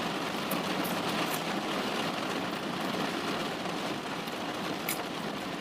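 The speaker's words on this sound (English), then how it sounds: "It's kind of peaceful, the rain, though." Steady, dense rain falls outside a car, a continuous even hiss with a faint low engine hum underneath and no talk.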